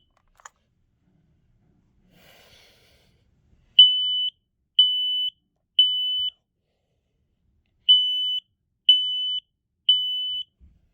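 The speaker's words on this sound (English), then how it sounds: "Let's go ahead and test this one." A smoke alarm under test gives six loud, piercing electronic beeps, each about half a second long, in two groups of three with a short pause between groups, in an otherwise quiet room.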